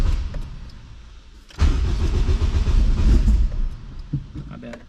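A PFI Speed car with a twin-disc clutch cranks and catches at about 1.5 seconds, then its engine runs loud and rough at close range before easing off. Voices talk faintly in the background.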